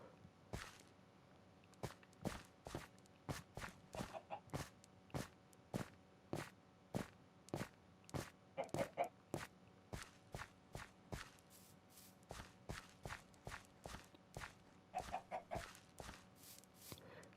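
Minecraft chickens cluck softly alongside a steady run of quiet, regular footsteps, the steps ticking evenly throughout with faint clucks scattered between them, all fairly low in level.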